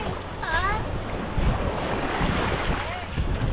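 Sea waves wash over a rocky beach in Batangas, a steady broadband rush of surf mixed with gusting wind buffeting the microphone, continuous and fairly loud, with a brief faint tonal call near the start.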